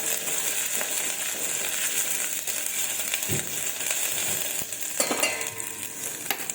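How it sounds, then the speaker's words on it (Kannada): Raw ginger-garlic paste fries in a pan with a continuous crackling sizzle, punctuated by occasional scrapes and taps of a spoon against the pan. "ಹಸಿ ಶುಂಠಿ ಬೆಳ್ಳುಳ್ಳಿ ಪೇಸ್ಟ್ ಇದು ಚೆನ್ನಾಗಿ ಫ್ರೈ ಆಗಿಬಿಟ್ಟು"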